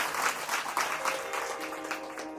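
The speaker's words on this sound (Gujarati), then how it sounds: "તો એકવાર જોરદાર તાળીઓથી એમનું પણ સ્વાગત" Audience applause at a Ram katha religious discourse in Palsana, a broad steady wash of many hands clapping together for the full length, fairly close and continuous with no talk over it.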